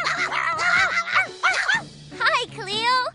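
A cartoon dog from Clifford the Big Red Dog gives a series of loud, close, voiced barks and yips with bouncy, exaggerated rises and falls in pitch, several bursts in quick succession.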